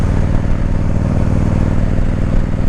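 A Harley-Davidson motorcycle engine revs steadily and loudly up close, holding a throaty, rumbling drone throughout.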